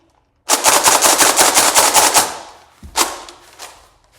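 A Nerf Fortnite blaster is slam fired, letting off a rapid burst of about a dozen loud, close mechanical thumps over two seconds. One more shot follows after a pause.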